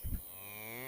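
A cow gives a single sustained moo, rising after a brief rough onset and holding a steady tone for under a second, close and clear.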